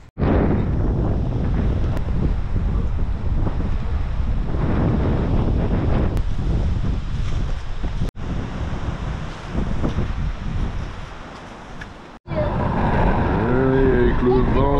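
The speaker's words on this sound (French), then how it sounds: "Avec le vent, c'est galère." Strong wind gusts batter a microphone outdoors beside a converted 4x4 camper van in the Aubrac, loud roaring buffeting in long bursts with brief drops, and people speak faintly under it.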